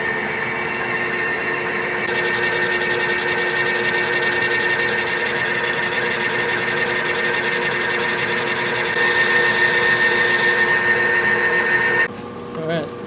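Lathe turning an axle piece held in the tailstock, cutting it concentric with its center hole: a steady, loud machine whine with a sustained metallic ring that cuts off abruptly near the end.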